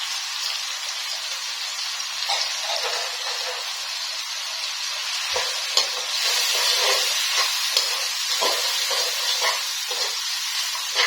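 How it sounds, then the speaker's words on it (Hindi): Spices and vegetables for aloo shimla mirch sizzle steadily in a hot pan, with a continuous hiss of frying and scattered soft taps and scrapes of stirring. "एक 2 मिनट जो है वो इसको भून लेना।"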